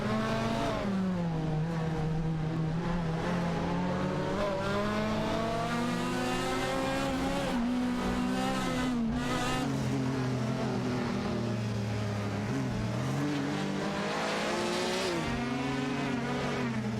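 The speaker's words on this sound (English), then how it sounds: "ABMD and Rizaldiada are battling it out for P22 with a Ford Escort Mark I and an Alpine A118" Engines of race cars, including a Ford Escort Mark I and an Alpine, drone and rise and fall in pitch continuously in a racing video game, several cars overlapping as they battle for position, loud and steady without pause.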